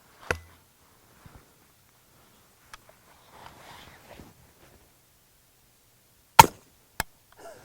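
A suppressed shot from a Handi rifle fitted with a Liberty Mystic X silencer gives a sharp, muted crack, followed by a couple of faint clicks, soft handling noise and murmuring, then two more crisp snapping impacts later.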